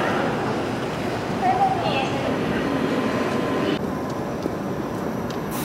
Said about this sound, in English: we're already in the train on the way